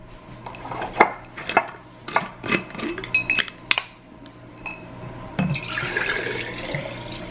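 A water bottle is filled at a home kitchen tap, with clinks and knocks of handling, then a steady rush of running water pouring in, close and fairly loud, no talking.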